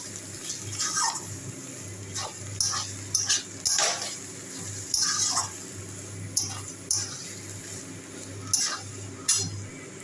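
A cabbage dish with a little ghee being stirred and mixed in a pan, the spoon scraping and clinking against metal in repeated strokes over a steady low background hum, close by; no talk.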